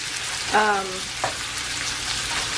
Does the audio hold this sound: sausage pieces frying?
yes